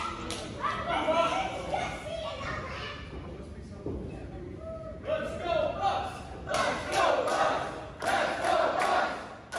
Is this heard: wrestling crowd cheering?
yes